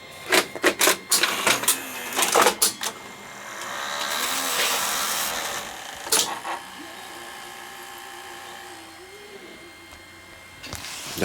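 A Sony Betacam UVW video tape deck runs through its mechanism, with a burst of sharp clicks and clunks at the start, a steady whirring drive, more clunks later and faint background talk.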